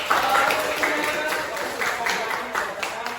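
A small group claps for the founders of ASEAN, a fairly light, uneven patter of hands with a voice mixed in, moderately quiet and close.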